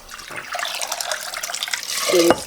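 Water pours into a cooking pot, preparing munguzá corn for a São João meal; a steady, close splashing flow runs throughout, ending with a brief clink.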